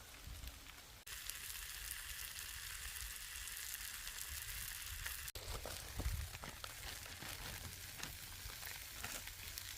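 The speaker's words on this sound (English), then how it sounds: "We're gonna get a nice sear on these" Pepper jack brats sear on a cast surface over a cold-weather campfire, giving a steady close sizzle and crackle that runs unbroken, with occasional pops and scrapes.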